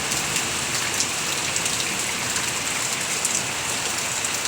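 Heavy rain pours down in a dense, unbroken hiss, loud and close, with scattered drops pattering on nearby surfaces.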